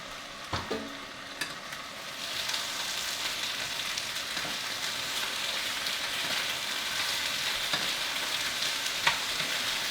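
Pork chops frying in a pan, a steady dense sizzle that swells and holds throughout, with a few sharp clicks of utensils near the start, close and moderately loud with no voices.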